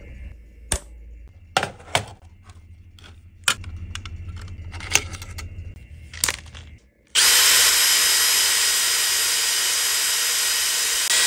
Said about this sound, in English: so that I can drill and tap for the fasteners